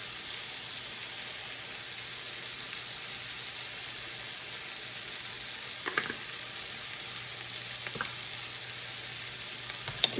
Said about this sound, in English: let those onions cook just a little bit